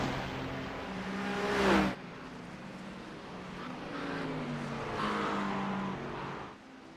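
A Mercedes race car in a Le Mans endurance racing game, its engine droning steadily with a rising whine as it passes, then settling into a lower hum, with no talk heard.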